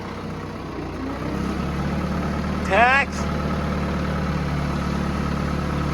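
A tractor engine idles in a steady low rumble, close and continuous, with a brief rising whine near the middle and a voice speaking a word over it.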